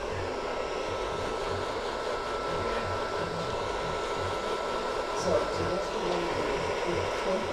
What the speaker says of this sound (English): we're going to start blow drying backwards